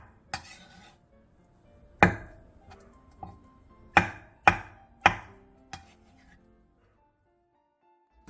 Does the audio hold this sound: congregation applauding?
no